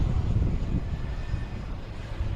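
A JetBlue airliner arriving from Houston at Boston Logan Airport makes a low, steady engine roar that stays near and fairly loud the whole time, with wind buffeting the microphone.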